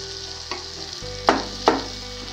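Boiled, mashed potato is stirred into a frying mixture in a pan for egg-potato paratha stuffing: a faint sizzle with three quick scraping strokes of the spoon, heard close, no speech.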